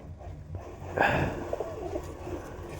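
Donek roller pigeons coo close by in a loft, a low throaty burble rising over quiet background rustling.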